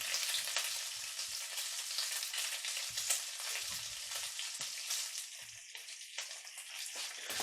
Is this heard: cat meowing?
no